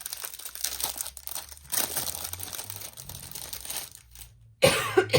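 Crinkly plastic package being opened up close, rustling and crackling in irregular bursts, with a sharper, louder crinkle near the end.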